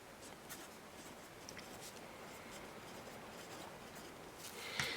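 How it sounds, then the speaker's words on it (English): A pen writes on paper, giving a steady, faint, continuous scratching with small strokes and no voices. "So I'm going to write down my paydays down here."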